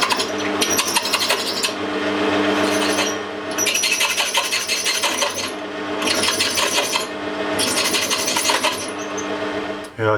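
A drill bit is reground on a grinder in repeated bursts of harsh, bright scraping and rasping, about four passes with short quieter gaps between them, close up and loud.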